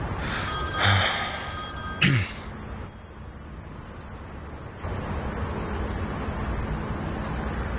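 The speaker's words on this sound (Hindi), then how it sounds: "निहान, इंतजार करने के बजाय फोन लगाओ।" A telephone rings in a Hindi-dubbed drama scene: a loud trilling bell bursts out at the start and again about two seconds in, then stops, leaving quiet room and faint traffic noise.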